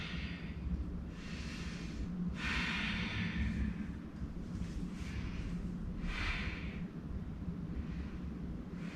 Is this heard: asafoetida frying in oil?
no